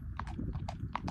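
A three-year-old Tennessee Walking Horse cross, 15.2 hands, is ridden at a smooth gait, its hooves falling in a quick, even four-beat clip-clop close by over a steady low rumble.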